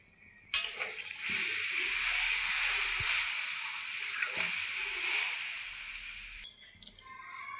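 Mashkalai lentil batter poured into a hot pan for a lentil and fish dish bursts into a loud, steady sizzle that holds for about six seconds before cutting off abruptly, with no talking.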